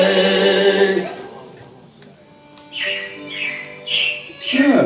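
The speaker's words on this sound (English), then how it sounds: "it looks like the Robins are getting ready to celebrate Valentine's Day today" Robin chirping sound effect in Disney's Carousel of Progress: a run of four bright, squawky chirps spaced about half a second apart, loud and close, following a fading stretch of sung music.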